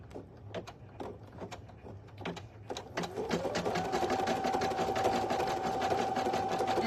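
A single-needle embroidery machine stitches a design on a premade item, opening with scattered close clicks before settling into a steady, rapid whirring hum with dense ticking that runs on alone.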